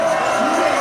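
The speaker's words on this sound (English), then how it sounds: "The chant goes up for Murphy." Baseball crowd at a Brisbane Bandits vs Sydney Blue Sox game sends up a sustained, loud chant for Murphy, a steady roar of many voices with no break.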